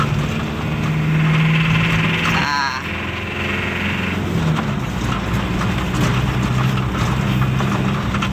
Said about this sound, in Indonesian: pada saat gigi 3 ini terjadi suara kasar ya